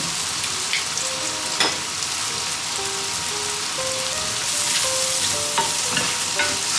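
Mushrooms fry in a pan over medium-low heat for a creamy garlic mushroom dish, giving a steady bright sizzle with a few crackles and the odd clink of a utensil, close and even throughout.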